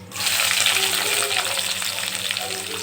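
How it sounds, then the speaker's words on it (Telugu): Chopped onions frying in oil for a soya chunk (meal maker) curry, a loud, steady sizzle that holds from start to finish, close to the microphone with no pauses. "వేసేసుకొని బాగా వేయించుకోవాలండి"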